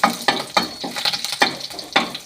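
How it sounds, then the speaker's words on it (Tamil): Mustard seeds and curry leaves spluttering in hot oil while tempering garlic chutney, a run of sharp close pops and crackles at an uneven rhythm over a soft sizzle. "கருவேப்பிலையும் நல்லா கடுகும் பொரிஞ்சிச்சு, கருவேப்பிலையும் நல்லா பொரிஞ்சிச்சு"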